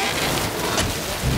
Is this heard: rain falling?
yes